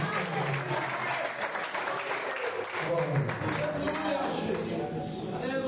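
A church congregation applauds during an evening worship service, a steady, dense wash of many hands clapping that continues throughout, with voices mixed into the crowd.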